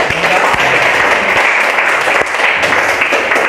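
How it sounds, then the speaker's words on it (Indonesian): Audience in a classroom session giving applause, dense continuous clapping from many hands filling the room at close range. "Kita berikan aplaus dulu"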